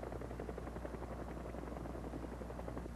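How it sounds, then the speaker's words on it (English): Helicopter engines run steadily with a constant low throbbing drone and rotor pulse, loud and unbroken throughout, with no voices. "At all times, helicopter engines are being started or are running."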